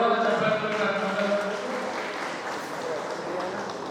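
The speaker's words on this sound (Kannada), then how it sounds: "ಗೌರವ ಚಪ್ಪಾಳೆ" An audience claps at a book and website release ceremony, a dense steady rattle of applause that follows a brief voice and carries on alone.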